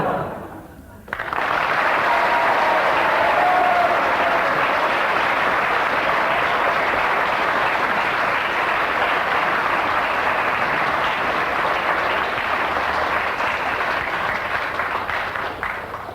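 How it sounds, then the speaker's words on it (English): Studio audience applause on a radio panel comedy show, a steady sustained patter of many hands lasting about fifteen seconds after a brief quiet start, moderately loud and with no talk over it. "10 seconds of rather half-hearted applause there"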